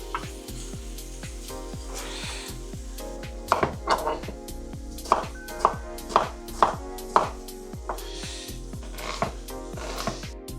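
An onion is chopped with a knife on a board for a pork belly dish in pickle sauce, with steady rhythmic taps close up and a sizzling pan frying underneath.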